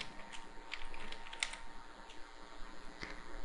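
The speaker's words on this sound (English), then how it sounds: "Type in the text of the pre-reading task." Someone types on a computer keyboard, a quick run of light, irregular key clicks heard close and fairly quiet with no talking.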